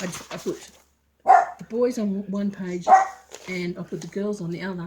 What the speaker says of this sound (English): that's my dog barking at the neighbours